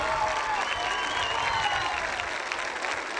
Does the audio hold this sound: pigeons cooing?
no